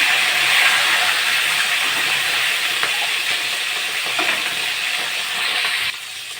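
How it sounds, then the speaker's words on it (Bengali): Silver carp fish heads fry in hot oil with a continuous loud, close sizzle and hiss that holds steady, then drops off a little near the end. "মাথাগুলো ভালো করে ভাজা হয়ে গেছে"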